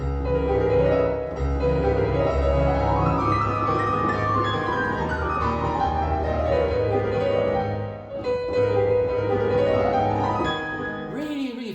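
A fast piano passage, rapid notes sweeping up and down the keyboard in continuous runs, close and moderately loud.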